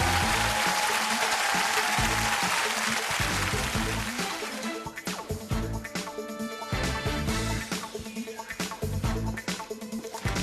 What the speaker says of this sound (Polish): Wielkie brawa, balladyna za 400. zł.